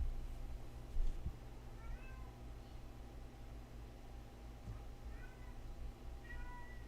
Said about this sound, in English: My cat's losing her mind.